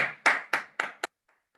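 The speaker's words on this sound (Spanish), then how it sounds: "Uma salva de palmas aí para os escritores nossos aí" A few participants in an online meeting clap for writers: four distinct, fairly close claps in quick succession, then near silence with faint trailing taps.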